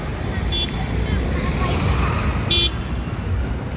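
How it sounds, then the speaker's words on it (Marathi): Busy street traffic heard while walking to a parked car after dinner out, a steady roar of vehicles with two short car horn toots rising above it, the second louder, and distant crowd babble underneath. "इथं ट्रॅफिकचा खूप प्रॉब्लेम आहे."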